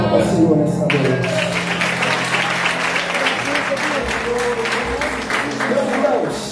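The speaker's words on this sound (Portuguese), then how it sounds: "Aplauda o Senhor nessa noite." A church congregation at an adolescents' congress applauds, a dense, continuous wash of clapping filling the room, with voices rising over it throughout.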